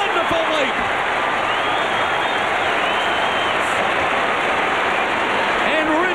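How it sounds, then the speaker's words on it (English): Crowd at an Australian football match roaring loudly and continuously, a dense wall of cheering and applause that holds steady throughout, with a commentator's voice faintly audible underneath. "This crowd is into it now."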